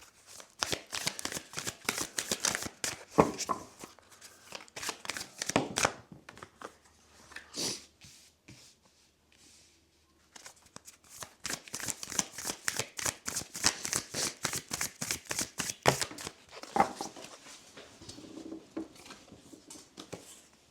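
Oracle cards shuffled by hand in rapid, riffling bursts of crisp flicks, close and clear, with a quiet pause midway before the shuffling resumes.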